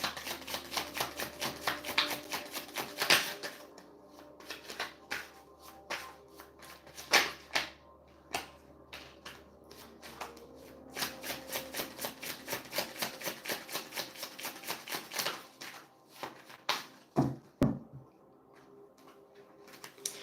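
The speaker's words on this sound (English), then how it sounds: "I'm gonna do another shuffle of this deck" Tarot cards riffled and shuffled repeatedly, quick papery flutters and soft taps close by, with brief pauses between bursts and no talking.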